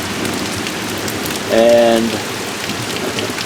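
Rain pours steadily during a storm in southwest Michigan, a dense hiss of drops on surfaces, with a brief spoken word and a short tonal sound partway through.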